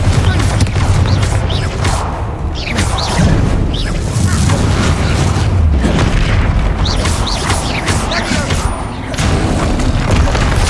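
Confringo and Bombarda spells in Hogwarts Legacy blasting in rapid succession, heavy booming explosions and crashing debris that overlap continuously, loud and close, with shouted voices now and then.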